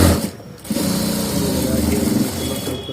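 Sewing machine topstitching a shirt collar, a loud close motor hum with a rapid pattering needle rhythm after a brief pause near the start.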